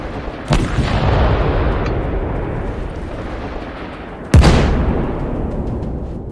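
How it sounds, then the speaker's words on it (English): Ukrainian artillery pounding stranded Russian vehicles: two heavy booming blasts a few seconds apart, each with a sharp onset and a long rumbling decay, over a continuous low roar. "Ukrainian artillery seizes the opportunity and pounds the stranded Russian vehicles with concentrated"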